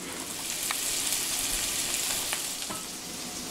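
Leeks sizzle steadily in a cast iron pan, a dense, continuous frying hiss with occasional small pops and stirring clicks, close and unbroken, with no one talking.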